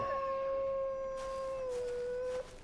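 A dog howls in the video game Far Cry Primal, one long steady wavering tone that holds for over two seconds and then cuts off, loud and alone with no talk over it.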